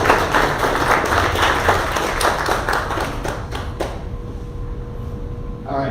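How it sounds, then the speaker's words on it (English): An audience at a meetup gives first-time attendees a brisk round of applause, with many hands clapping close and loud before it cuts off abruptly, leaving a quiet room hum. "let's give our first timers a big round of applause"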